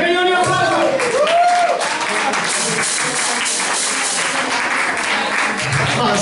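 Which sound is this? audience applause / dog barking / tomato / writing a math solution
audience applause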